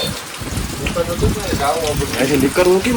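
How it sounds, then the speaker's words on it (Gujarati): Steady rain pours down with a dense, broadband wash, while voices talk and call out over it throughout. "હું વરસાદ પડ્યો ભાઈ ભૂકા બોલાવી સાહેબ"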